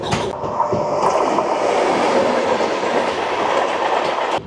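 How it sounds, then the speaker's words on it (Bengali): The Garib Rath Express from Secunderabad to Visakhapatnam passes close by in a loud, continuous rumble with rhythmic wheel clatter and metallic rail noise, fading slightly at the end. "এটা হচ্ছে সেকেন্দ্রাবাদ জংশন থেকে বিশাখাপত্তনম জংশন গরিব রথ এক্সপ্রেস।"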